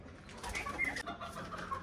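Soft pigeon cooing, a brief murmuring call close by but quiet, over faint background noise.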